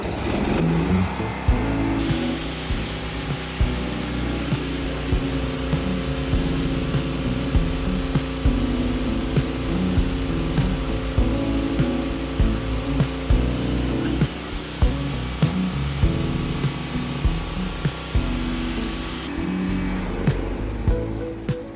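Philing PK200A inverter welding generator running with a portable inverter welding machine and a grinder, a steady engine drone with rhythmic load changes and a high whine, close and loud throughout.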